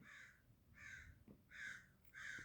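Crows caw four times in a slow, uneven series, each harsh call short and fairly distant, with no talking.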